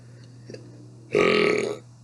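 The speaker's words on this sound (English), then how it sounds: "I have not been burping since I have been sick" A single long, loud burp from a person recently sick, close to the mic, rising abruptly and lasting under a second before cutting off, with only faint background noise around it.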